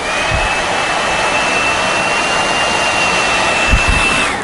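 A steady, loud hair dryer blows continuously with a high whine running through it, a few soft bumps and handling noises underneath.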